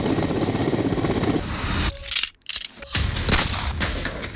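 An American military helicopter at a joint India–US exercise at the Mahajan field firing range near Bikaner, a loud continuous rotor and engine roar that drops out briefly midway and then returns, with possible gunfire mixed in.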